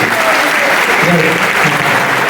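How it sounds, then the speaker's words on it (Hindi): An audience at an ISKCON youth awareness event on giving up addiction claps loudly for itself, a dense sustained burst of applause with some voices mixed in. "एक बार अपने लिए जोर से तालियां बजाइए"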